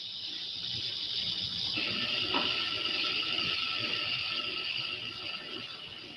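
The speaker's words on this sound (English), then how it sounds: "With this small motor and crank, I can generate such a train of waves at this end of the machine" A small motor turning a crank to drive a lab wave machine, heard as a steady mechanical whir with faint ratcheting clicks and hiss throughout, one brief louder knock midway.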